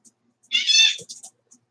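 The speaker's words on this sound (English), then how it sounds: "My cat and dog are gonna, they literally battle." A house cat lets out a sharp, strained meow-growl during a scuffle with a dog, one short loud cry followed by a few quick fainter yowls, fairly close.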